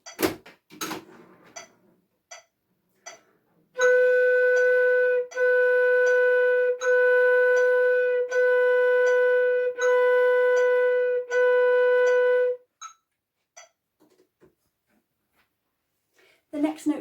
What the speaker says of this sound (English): Minims will be held over 2 beats then, so you'll hear the count going on the metronome, and I'll make my notes last for 2 of those counts.